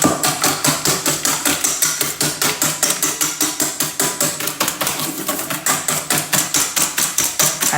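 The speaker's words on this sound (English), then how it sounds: "And whisk with a fork until" A fork whisks a mixture briskly in a bowl for a black forest cake batter, giving fast, steady, rhythmic clinking strokes that run loud and close throughout.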